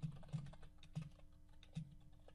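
Keystrokes on a computer keyboard while entering text in Word Online, quiet irregular clicks arriving in small bursts and single taps, close and soft against a faint room background.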